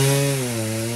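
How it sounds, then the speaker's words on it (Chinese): A chainsaw cuts through a roughly ten-metre tree blown down across a roadside in a typhoon. The engine drones steady and close, its pitch sagging slightly under load as the chain bites into the wood, with no voices. "清洁队手拿电锯，准备将一棵横倒在路边长约10米的大树给锯断"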